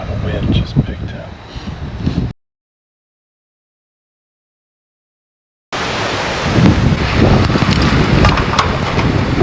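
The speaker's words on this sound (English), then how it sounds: "4 o'clock in the morning, and there's the wind just picked up." Strong wind roars across a campsite at 4 am as an intense storm builds. The gusts are loud and steady, cut off by a few seconds of silence in the middle before resuming.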